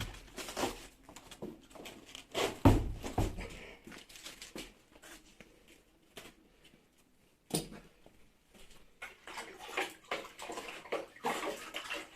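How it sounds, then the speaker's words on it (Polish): Salted water poured for Bulgarian-style sauerkraut, heard as an irregular splashing, pattering flow with louder bursts near the start and again after a short pause, close by, with no talking. "tutaj zaraz naleję wodę posoloną"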